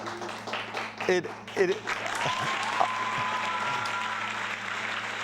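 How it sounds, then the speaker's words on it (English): Audience applause for an engineering and product team at a holiday sales event, a steady wash of clapping that swells after the first couple of seconds and continues under a speaking voice. "let's give it a round of applause for engineering and our product team"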